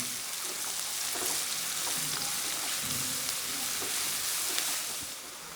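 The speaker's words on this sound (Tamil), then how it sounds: "பூண்டு பல்லையும் சேர்த்து எண்ணெயில் நல்லா மிக்ஸ் பண்ணி விட்றேன் நல்லா வதங்கட்டேன்" Crushed garlic cloves fry in oil with onions for a pepper chicken gravy, a steady, dense sizzle with occasional faint stirring scrapes underneath.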